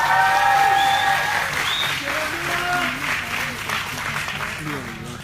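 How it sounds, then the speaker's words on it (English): An audience claps for spoken-word poets from the Marshall Islands at a delegation event, with a voice talking over the applause and other voices murmuring as the clapping settles into a steady wash. "So give a round of applause for our speakers here."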